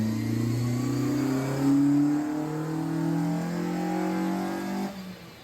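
Honda 2.0 VTEC engine fitted in a Ford Escort sweeps up from near idle on a dyno, a loud, steady rising engine note with clear harmonics that climbs for about five seconds before dropping off.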